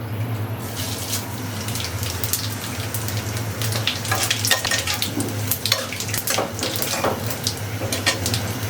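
Dried chili, bay leaf, cardamom, nigella and cumin fry in mustard oil in a wok, making a close, steady sizzle broken by irregular crackles and pops and light stirring, with no voice.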